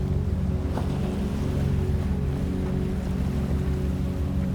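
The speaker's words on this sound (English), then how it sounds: "The ferry keeps its even course through open water." A ferry moving steadily through open water gives a continuous low engine drone with a wash of water, even and unbroken throughout.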